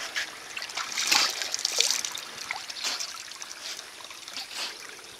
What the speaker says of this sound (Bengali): ঝর্ণার পানি।